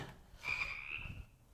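A frog croaks once inside a horror jumpscare game, a rising, sustained rasp at moderate level with faint room noise around it.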